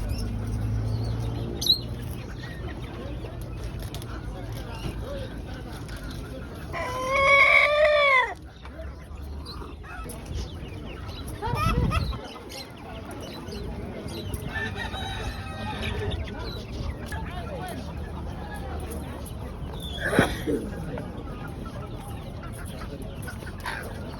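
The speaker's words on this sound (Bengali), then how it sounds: "কত বড় মোরগ" A rooster crows once, loud and close, its rising then falling call standing out over a busy outdoor animal market in Tabuk, Saudi Arabia, with scattered fowl sounds.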